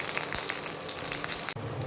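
Potatoes frying in hot oil with chillies and black cumin seeds, a dense, steady crackling sizzle close up throughout, with one brief dip and a soft knock near the end, no speech.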